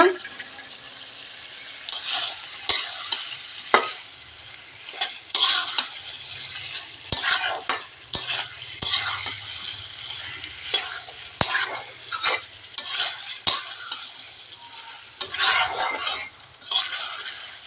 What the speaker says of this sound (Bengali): আমি ফুলকপি আর আলুটা হালকা করে যে ভেজে রেখেছিলাম এখন আমি মশলাটার মধ্যে দিয়ে দিব, দিয়ে ভালোভাবে একটু কষিয়ে নিব।